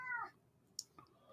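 A pet cat named Peanut gives one short, faint meow in a quiet room, followed by a couple of soft clicks.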